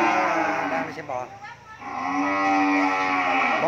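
Cattle lowing at a farm in Vietnam, a close, drawn-out moo rising and falling over a few seconds, with faint voices in the background.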